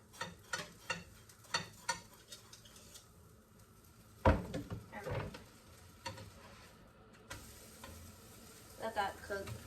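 Food frying in butter in a pan, a steady close sizzle with clinks and scrapes of a utensil stirring, plus one sharp knock midway, fairly quiet overall with no clear talk.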